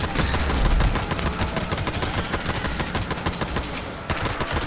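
Sustained automatic AK rifle fire in a video game, a fast, steady stream of loud, closely spaced shots that runs without a break from start to finish.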